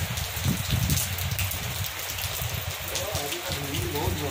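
Rain falling outdoors during a monsoon day at a home garden, a steady wash of drops with a constant hiss, some faint voice-like sounds mixed in underneath.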